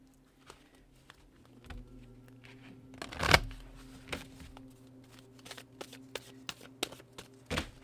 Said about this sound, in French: Alors, on va mélanger un peu les cartes.